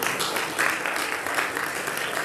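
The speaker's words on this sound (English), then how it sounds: "Can we give Jesus a hand clap of praise today?" Congregation clapping in praise during a church service, a brief burst of many hands clapping with slight rhythmic pulses, moderately loud and fairly even.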